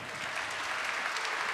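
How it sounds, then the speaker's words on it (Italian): An audience applauds in the Teatro Politeama in Palermo during a cultural show, a dense steady wash of clapping that fills the whole short stretch at even loudness. "Un applauso."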